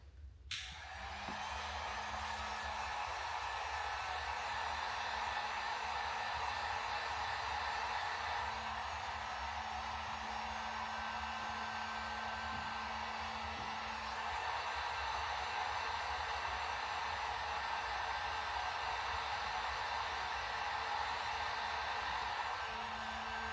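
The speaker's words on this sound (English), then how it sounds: "get the heat gun out, warm these up and see if they will peel off or not" A heat gun blows a steady, even rush of hot air onto the decals of a Jeep JK grille, running continuously after a brief start, with a faint hum beneath the hiss and no talking.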